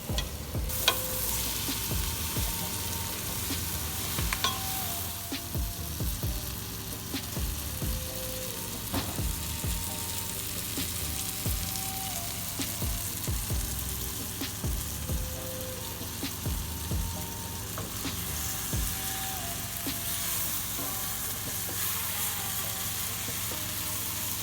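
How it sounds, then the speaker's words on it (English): Goat meat for Jamaican curry goat is stirred in a hot pot, giving a steady close sizzle and frying hiss with occasional soft knocks of the spoon against the pot. "You're gonna stir the meat for about 5 minutes."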